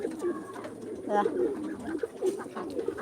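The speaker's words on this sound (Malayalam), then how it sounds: "നമ്മളെ സാറ്റ് പ്രാവ് എങ്ങനെയുണ്ട് ഗൈസ്" Satin pigeons coo nearby in low, rolling, repeated murmurs that run steadily through the whole stretch, with a few louder throaty notes breaking in partway.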